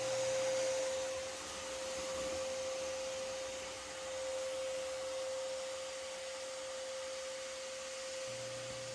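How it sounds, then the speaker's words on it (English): A vacuum draws yellow jacket wasps out of a nest on a house wall, a steady droning whine with a constant hum that holds for the whole stretch, fairly faint and with no voices. "So I'm just letting the vacuum sit here and just vacuum up a bunch of the foragers"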